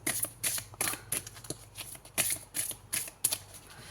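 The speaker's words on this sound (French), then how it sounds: "on tire une dernière petite carte" Tarot cards shuffled and drawn by hand, a quick run of crisp riffling bursts about every half second, close and fairly quiet, with no talk over them.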